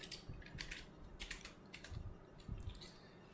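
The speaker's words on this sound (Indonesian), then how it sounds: "saya lebih pilih untuk ketik ulang lagi aja" Irregular bursts of keystrokes on a computer keyboard while code is typed out by hand, close and fairly quiet, with short pauses between runs of clicks.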